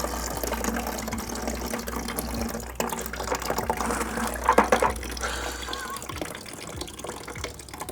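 Water drains out of a boat being prepared for a diesel engine swap, a steady trickling and gurgling pour with splashes, fairly close, over a low hum and some faint background voices.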